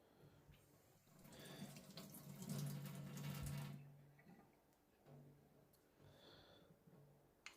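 A German straight razor and a sharpening stone are rinsed under a running tap, making a quiet, close stream of water that swells and then fades, with faint clicks between splashes.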